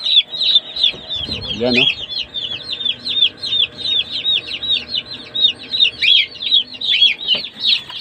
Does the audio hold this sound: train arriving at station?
no